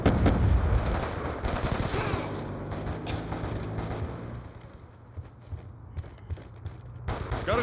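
Rapid automatic gunfire and battle noise from a military first-person shooter video game, loud and dense at first, then thinning into scattered shots under background radio-style voice chatter.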